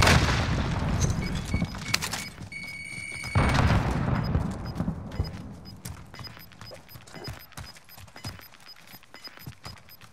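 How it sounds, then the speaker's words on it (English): Call of Duty: Modern Warfare gunfight with heavy booms and bursts of gunfire, one loud thudding grenade blast near the middle, then scattered shots and impacts fading into the distance. "Throwing grenade!"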